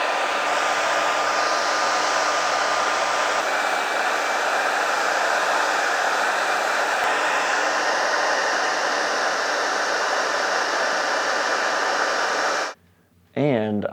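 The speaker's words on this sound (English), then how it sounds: "So now I'm doing it with the hair dryer." Hair dryer blowing hot air to melt wax into canvas for a backpack, a loud steady whoosh running almost twelve seconds before cutting off, then a brief restart at the end.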